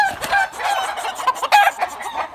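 Nervous rooster clucking and crowing at close range, a loud burst of agitated calls with uneven rhythm, with another rooster nearby.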